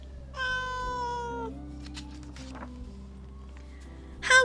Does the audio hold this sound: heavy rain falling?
no